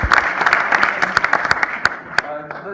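An audience at a spring fundraiser in Housatonic, Massachusetts claps in a short burst of dense, crackling applause with sharp individual claps standing out, thinning toward the end.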